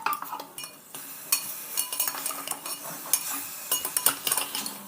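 Mutton sautéing in a pan, stirred with a spoon that clinks and scrapes against the metal in steady, busy strokes, with faint frying underneath.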